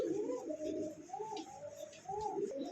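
Milli-coloured rosogolla pigeons coo softly and continuously in a pigeon market, with low, rolling, throaty calls repeating close by.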